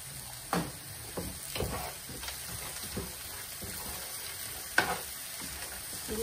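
Chicken sizzles with corn kernels and peanuts in a hot pan while a spoon stirs, scraping in irregular strokes over a steady frying hiss.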